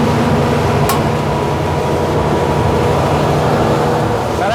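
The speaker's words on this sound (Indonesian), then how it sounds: "Setelah kita menyalakan genset ini sudah running well" A generator set engine runs as a steady, loud, continuous drone with a low rumbling hum during a commissioning test, with no breaks or changes in pitch.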